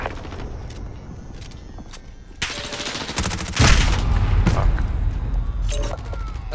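A cruise missile killstreak in Call of Duty Modern Warfare slams down with a loud booming impact, following a stretch of rapid gunfire crackle, with rumbling debris noise trailing afterward.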